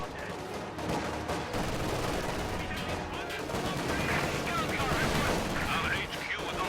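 Sustained gunfire crackles through an infantry battle between combat engineers and Volksgrenadiers in a real-time strategy game, dense rapid rifle and machine-gun bursts layered together at steady loudness, with a commentator talking over them.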